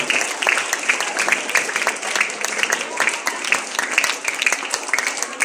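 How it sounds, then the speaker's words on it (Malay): Schoolchildren at a primary school assembly applaud themselves in a lively, dense burst of many hands clapping, steady and close for over five seconds. "tepukan pada diri kamu sendiri yang hadir pada pagi ini"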